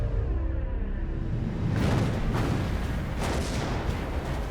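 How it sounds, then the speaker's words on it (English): The USS Johnston's 5-inch naval guns fire in a few heavy booms about a second apart, loud and close, each one rolling into a rumbling tail without any talk. "The Johnston opens fire with her few remaining 5-inch guns."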